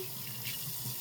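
Tap water runs in a steady, close, soft stream during a brief rinse at a sink, with a slight splash as it strikes something, and no voices.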